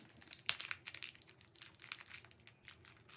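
A Mise-en-scène photocard package is torn open, with quiet close crinkling and crackling of plastic wrapping in irregular small bursts, a sharper tear early on, and no talk.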